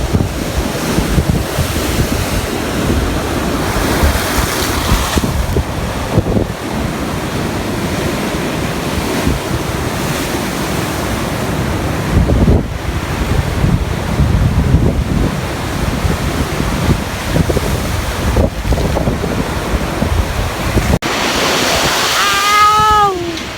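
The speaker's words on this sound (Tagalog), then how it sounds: "Grabe talaga yung hampas ng alon" Strong sea waves crash and surge along the Southern Leyte shore during Typhoon Auring, a loud, continuous roar of surf mixed with heavy wind buffeting the microphone.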